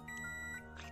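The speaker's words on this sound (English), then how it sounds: "Why is the microwave ringing?" A microwave beeps in a short series of electronic tones over a steady background hum, fairly faint and without any talk.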